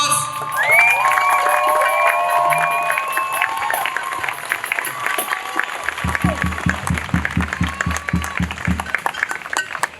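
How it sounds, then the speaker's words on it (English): A crowd at a street rally cheers, whoops and claps loudly, with shouts rising at first and then rhythmic clapping and a low beat joining toward the end. "A round of applause."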